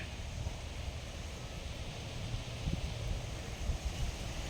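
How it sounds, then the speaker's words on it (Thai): Strong wind gusting through a durian orchard, a steady broadband roar with rising surges, loud and close on the microphone, with no speech. "ลมแรงครับ ลมแรง"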